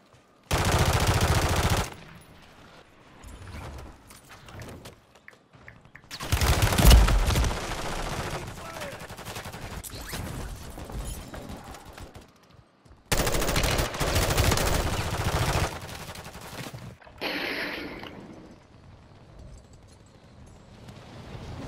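Bursts of automatic gunfire in the video game Modern Warfare 3, several loud sustained volleys separated by short quieter gaps, with faint game noise in between.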